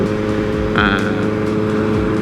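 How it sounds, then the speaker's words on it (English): A 2008 Suzuki Hayabusa with a full Brox exhaust roars loudly and steadily up close while riding, its deep engine drone continuous throughout. "he's got a full Brox exhaust, so that's why it's so loud."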